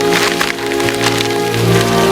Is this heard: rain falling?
yes